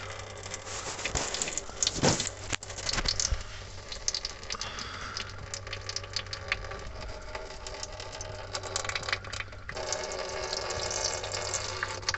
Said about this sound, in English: I just got our oil pan ready to catch those drips.